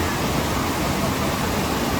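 Water rushing steadily at a waterfall in Marino Ballena National Park, Costa Rica, a dense, even roar that fills the whole clip without a break.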